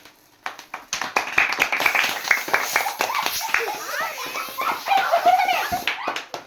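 A small group claps together at a Teachers' Day celebration, brisk overlapping claps going on steadily for several seconds while children talk and call out over them.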